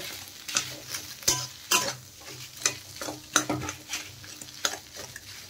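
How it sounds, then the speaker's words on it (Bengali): A spoon stirs fried peanuts into a sizzling potato filling for samosas in a pan, with steady rhythmic scraping and clinks over a soft, continuous frying hiss. "দিয়ে দিলাম ভেজে রাখা বাদাম, দিয়ে ভালো করে নেড়ে চেড়ে মিশিয়ে দেব"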